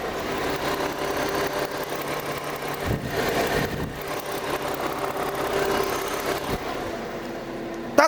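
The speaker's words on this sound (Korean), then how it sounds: "고객님들이 차량에 대한 엔진 소리를 들으시고 판단을 해주셨으면 좋겠네요 엔진 소리 들려드릴게요" A BMW 5 Series 520i engine idles steadily for several seconds, a continuous low rumble with a faint mechanical whir and no voices.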